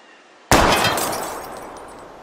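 A gunshot strikes a wheel rim in the Life is Strange video game: one sudden loud crack with a shattering, metallic burst that rings out and decays over about two seconds.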